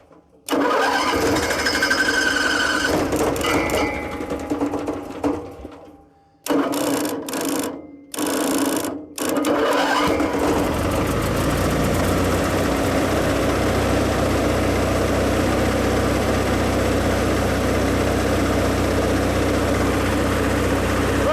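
An old generator on a racecar trailer, unused for over ten years, is cranked with its choke held half open. It sputters and cuts out a few times, then catches and runs with a steady, loud, close drone. No one speaks.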